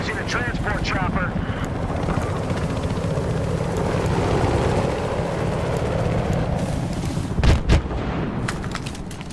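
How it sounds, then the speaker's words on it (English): A transport helicopter's steady rotor drone fills the scene in Battlefield Hardline, with sharp gunfire bursts near the end and voices talking over it. "Suspects are using a transport chopper."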